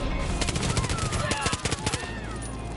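Rapid bursts of automatic gunfire in the video game Far Cry New Dawn crack out in quick succession over a rumbling engine, with a voice talking underneath.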